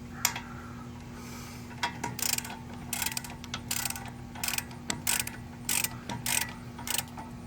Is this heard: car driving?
no